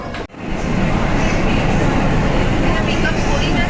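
A 12859 Geetanjali Express passenger train running between Mumbai and Kolkata gives a loud, steady rumble that fills the whole clip after a brief dip at the start.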